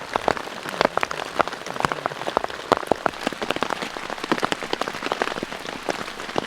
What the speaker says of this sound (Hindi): सुबह से शाम होने जा रही है और अभी तक बारिश रुकी नहीं है।